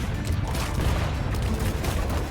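A dense, steady barrage of booming ship cannon fire and crackling blasts from a naval combat video game rolls on without pause, loud and continuous.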